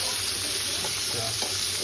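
Dense, steady sizzling of pomfret and bombil fish frying on a hot griddle, close and loud, with no talking.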